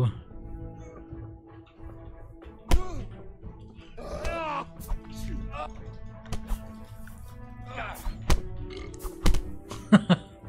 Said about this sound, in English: Wow, the burping.